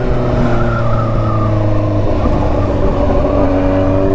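Kawasaki Z900RS motorcycle with a full aftermarket exhaust, engine revving loud and close in a sustained, steady roar with strong harmonic tones, alone without talk.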